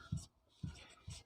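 Pen or chalk writing during a class 10 maths lesson on trigonometry, heard as three short scratchy strokes about half a second apart, quiet and close with no talking.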